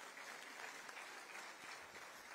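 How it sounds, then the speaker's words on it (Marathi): Steady, sustained audience applause for Sanjay Lokhande at a birth-centenary gathering for Smt. Sumatitai Suklikar attended by Chief Minister Devendra Fadnavis; a dense, even clapping texture fills the hall throughout. "सगळ्यांनी कृपया करून संजयजींकरता अभिनंदनाकरता टाळ्या वाजवाव्या"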